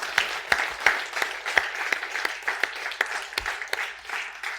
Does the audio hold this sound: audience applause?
yes